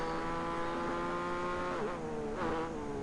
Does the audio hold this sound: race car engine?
yes